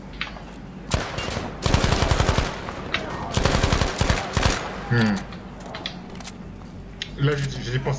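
Machine gun fire in the Battlefield 5 video game, sustained automatic bursts of loud, rapid rattling shots up close, with brief pauses between bursts and some mechanical clicks toward the end.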